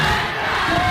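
Kenyan university students chant anti-government songs together as a dense, loud crowd of massed voices, continuous throughout.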